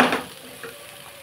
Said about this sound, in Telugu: కొంచెం వాటర్ వేసుకుందాం.